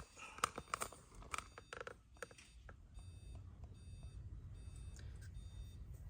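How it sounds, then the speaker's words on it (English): Faint electronic beeps from a small Bluetooth speaker plugged into a TV repeat in a steady pattern, following a few sharp clicks and knocks at the start. "little speaker Bluetooth is plugged into the TV, so it's beeping right now"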